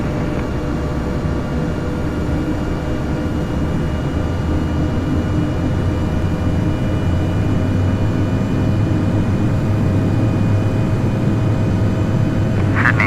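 A Piper light aircraft on the runway at Sydney airport, a steady droning engine rumble that holds constant and loud throughout with no speech over it.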